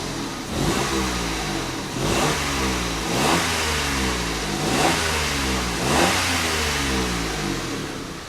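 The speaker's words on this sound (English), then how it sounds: "It's one of them where it's got a drain hole in it and it makes a raspy noise." A Peugeot 107 engine, fitted with a cheap aftermarket back box that has a drain hole, revs repeatedly in loud, raspy bursts, rising and falling in a steady rhythm about every second or so.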